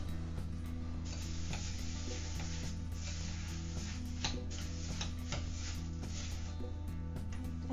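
Crispy rice being stirred and tossed into a pie filling mixture, giving a steady, close, quiet rustling and ticking crackle without any talking.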